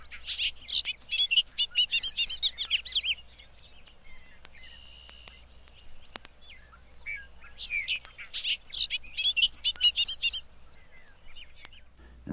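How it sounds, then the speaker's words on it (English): A bobolink sings its bubbling evening song across an open field near wooded land, two bright, jumbled bursts of warbling separated by a quiet pause, fairly close and clear with no other sounds. "Across the road, over the open field, a bobolink sings his last song of the evening."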